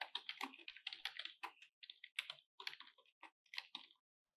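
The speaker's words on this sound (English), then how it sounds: "Here, you can type any command and press enter to execute it." Someone types a command on a computer keyboard at a Git Bash terminal on Windows: a quiet, close, uneven patter of key clicks in short bursts, ending in a pause, with no voices.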